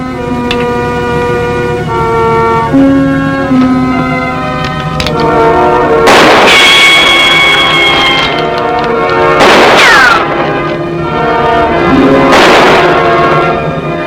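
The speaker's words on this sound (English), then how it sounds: "He's still firing high. He's not even trying to hit us." Gunfire in a western shootout, several loud, sharp shots at irregular intervals, some ringing out with echo and ricochet whine, over a dramatic orchestral score.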